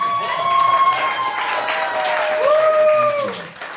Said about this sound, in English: So you can give me a big round of applause.